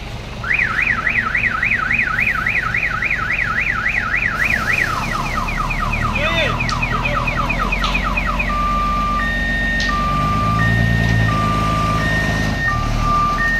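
Loud electronic vehicle warning tones: a rapid warbling siren gives way to steady repeated reversing beeps over a low engine rumble, close by and continuous.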